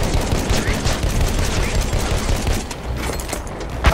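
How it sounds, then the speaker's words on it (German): Enemy machine gun fire rattles in dense bursts during Battlefield 1 conquest combat on Monte Grappa, a loud continuous fusillade of close and distant shots, with scattered battle noise around it. "Maschinengewehr, eindeutig feindlich. Feindliches Maschinengewehr."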